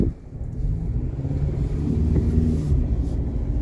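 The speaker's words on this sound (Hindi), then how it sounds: "मैं लेके जा रहा हूँ गाड़ी।" A Ford Endeavour automatic SUV driven in light rain, heard from inside as a steady low engine and road rumble with wind noise throughout, no talking.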